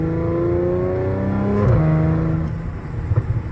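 A 2015 Audi S5 with a DSG gearbox pulls hard from a rolling start with traction control off, its engine note climbing steadily and loudly in rising harmonics before a quick shift and a brief drop near the end.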